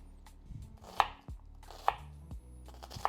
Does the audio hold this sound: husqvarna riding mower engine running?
no